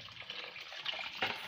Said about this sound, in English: So I'm just going to add this hot water